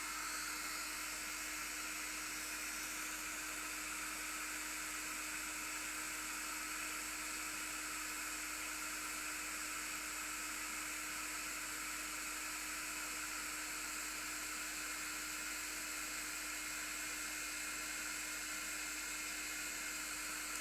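Steady, unbroken whirring of a hair dryer running close by, a constant airy hiss with a faint motor hum and no other sounds.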